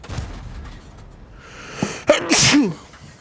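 A person sneezes once, close and loud, near the end after a stretch of quiet room noise. A short inhale comes just before the sharp burst, and nobody talks.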